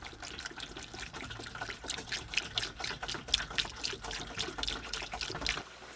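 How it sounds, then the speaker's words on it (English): Water runs steadily into a camper truck's tank, a continuous trickling, splashing pour heard up close with slight surges, and no one speaking. "Then I fill the water tank and prepare the camper."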